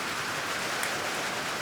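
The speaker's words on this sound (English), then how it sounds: "And the rain's coming." Rain falls in a steady, even hiss of dense drops on the surfaces outdoors, continuous and moderately loud, with no voices.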